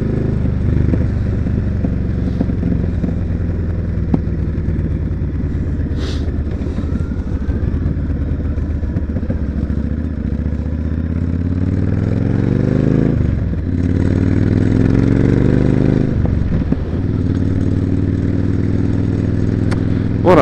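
Motorcycle riding along a road with the engine droning steadily, rising and falling as it shifts and accelerates, with wind and road clatter close to the microphone.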